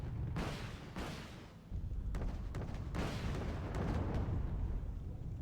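Missile and artillery fire in the strategy video game Wargame: Red Dragon, a run of loud booming launches and blasts rolling one into another under constant battle rumble.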